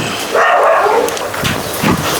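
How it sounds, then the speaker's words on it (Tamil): A male dog on a farm gives a short loud bark up close, with a couple of softer gruff sounds after it. "இது வந்து நான் நாலாவது எடுத்த நாய்"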